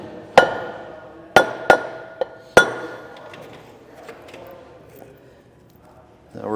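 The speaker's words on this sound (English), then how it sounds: "So we'll give it a couple of taps." A block of wood taps on electric trailer brake hub parts on a flatbed trailer, with four or five sharp, ringing knocks spaced irregularly up close, followed by a quiet stretch.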